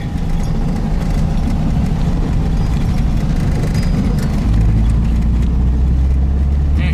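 A 1971 VW Type-3 Squareback with a 1600 engine pulls hard in second gear, a loud, continuous low engine rumble and drone that deepens slightly partway through, heard from inside the car without talking.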